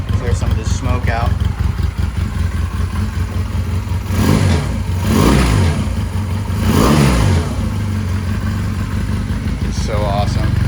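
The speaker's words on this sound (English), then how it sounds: "Let's give her a couple of revs, clear some of this smoke out." A Honda Rebel motorcycle, an old machine recently revived, idles with a lumpy exhaust beat, then is revved twice in quick swells before settling back to idle, loud and close.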